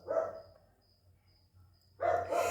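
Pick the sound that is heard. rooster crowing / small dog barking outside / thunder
small dog barking outside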